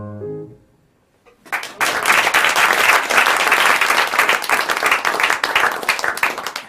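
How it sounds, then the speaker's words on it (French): A concert audience bursts into loud, dense applause just after the final soft notes of a Schubert lied for voice and piano. The clapping swells quickly and stays full and sustained to the end. "merci beaucoup Stéphanie, merci beaucoup Laurent, on les applaudit vraiment super fort."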